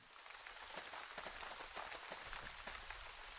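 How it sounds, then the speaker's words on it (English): Rain falls steadily in the video game Wytchwood, a soft continuous patter with distinct droplet ticks landing on surfaces, quiet and without voices. "I'm not sure if the game is having dynamic weather or if it was raining."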